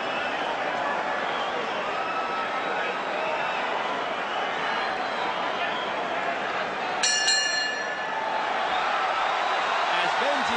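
An opening bell rings at a professional boxing match between Miguel Cotto and Shane Mosley, a short cluster of bright metallic clangs rising briefly over loud, steady arena crowd noise.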